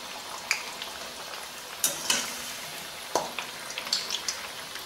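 Bread vada fries in shallow oil with a soft, continuous sizzle, punctuated by occasional sharper pops and crackles close by.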